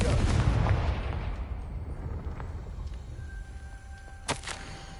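A Confringo blasting curse goes off in the Hogwarts Legacy video game: a deep booming explosion at the start that rumbles and decays, followed by a sharp crack-like hit a few seconds later.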